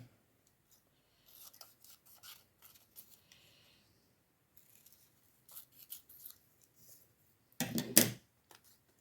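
Scissors snip out a small paper triangle in a series of quiet, irregular cuts and rustles, ending with a louder burst of paper handling near the end, close up with no speech.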